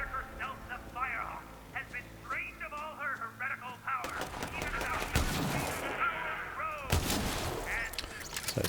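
Hyperion sniper rifle shots in Borderlands 3 ring out in sharp loud cracks, with a couple of heavy reports in the latter half over dense game noise, while a voice talks through the opening.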